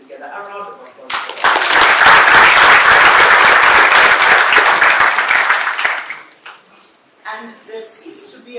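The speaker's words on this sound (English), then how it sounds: "A round of applause." A conference audience at a philanthropy event in East Africa breaks into loud, dense applause that swells quickly, holds for about five seconds, then fades, with speech before and after.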